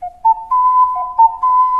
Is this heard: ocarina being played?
yes